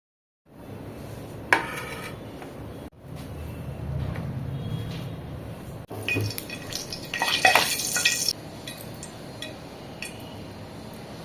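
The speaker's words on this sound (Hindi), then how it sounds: "तो बच्चों के लिए और हस्बैंड के लिए मैं यहाँ पे पूरी फ्राई कर रही हूँ।" Puris deep-fry in hot oil with soft bubbling and sizzling, punctuated by clinks and scrapes of a utensil against the pan, moderately quiet and without speech.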